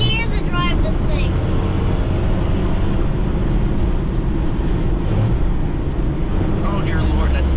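A 6-speed Cummins 12-valve diesel truck cruises on the highway, its engine rumble and road roar steady and loud throughout, with people talking over the drone.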